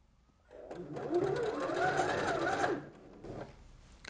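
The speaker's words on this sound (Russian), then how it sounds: "Далее нам потребуется проложить строчку примерно на 5 мм от края." A sewing machine runs a line of stitching about 5 mm from the fabric edge while making a summer dress, a steady close whirring burst of roughly two seconds that then stops, followed by faint handling noises.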